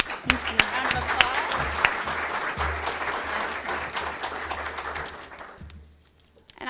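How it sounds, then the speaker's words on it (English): An audience at a Kiwanis club meeting applauds warmly, dense clapping that carries for several seconds before fading out. "give a warm Kiwanis round of applause"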